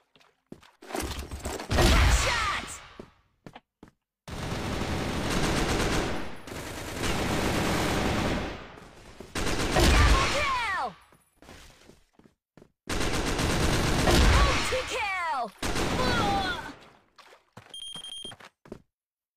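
Bursts of rapid automatic gunfire in a shooting video game come loud and close, in several long volleys separated by brief pauses. Sharp ricochet-like whines are mixed in, and a short electronic beeping comes near the end.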